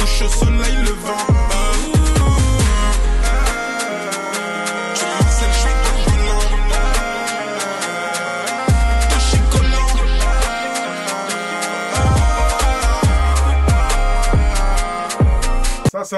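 French song from an artist's EP, a loud, dense music track with heavy thumping bass that drops out and returns in sections, playing continuously for about sixteen seconds.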